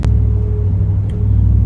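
Drag racing truck engine running at the track, a steady low rumbling drone with a faint whine, continuous and close, with a brief click near the start.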